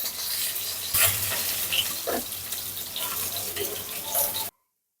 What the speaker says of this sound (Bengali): তো তেলের মধ্যে আমি পেঁয়াজ কুচি দিয়ে দিলাম, কাঁচামরিচ দিয়ে দিলাম